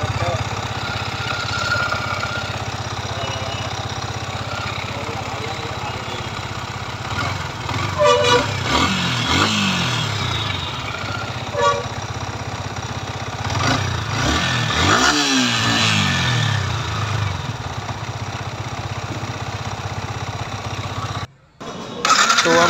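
A Yamaha R15 V3 engine runs at idle with a mechanical noise from the timing chain, a steady buzzing drone broken by a few short throttle blips and a brief cutout near the end, with some voices in the background.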